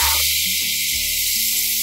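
Peas tipped into hot oil with asafoetida and turmeric set off a loud, close sizzle, a bright hiss over a low bubbling crackle.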